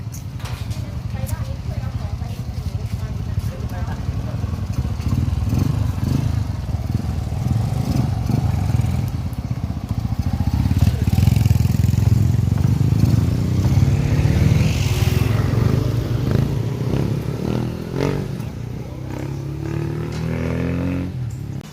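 A Honda Wave100 motorcycle engine hums and revs steadily during a test ride nearby, with people talking over it throughout.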